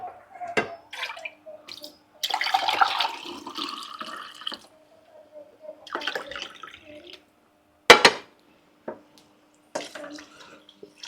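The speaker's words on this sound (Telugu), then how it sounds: "2 గ్లాసులు వాటర్ పోసుకున్నాను." Rice-soaking water poured from a glass into a cooking pot in a home kitchen, heard as two splashy pours separated by pauses, with a sharp clatter near the end; fairly close and moderate in level.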